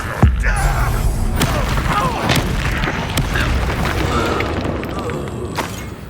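Spell explosions from the Hogwarts Legacy video game: a sharp booming blast at the start followed by crackling, whooshing magical effects and scattered thumps, loud and dense over a continuous background rumble.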